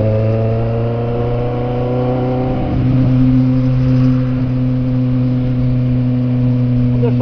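A Kawasaki Z750 motorcycle rolling downhill on Avenida Ivaí, its engine holding a steady mid-pitched drone while braking on compression, with wind noise and no talking.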